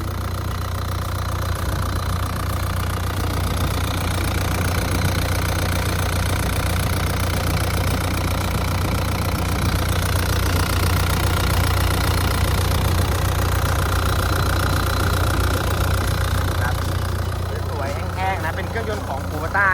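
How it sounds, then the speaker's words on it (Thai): A Hitachi ZW80 wheel loader's turbo diesel engine runs at a steady idle close by, a continuous low throbbing rumble that goes on unchanged from start to end. "การทำงานของตัวเครื่องยนต์ของเขาเนี่ยก็ทำงานได้นิ่มแน่นดีปกติ"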